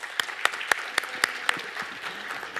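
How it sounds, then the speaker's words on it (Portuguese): A few people clap in a steady, evenly spaced rhythm at a sales workshop, sharp nearby claps repeating about every quarter second with no talking. "Uma salva de palmas para ele."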